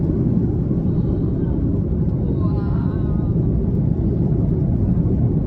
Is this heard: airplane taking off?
yes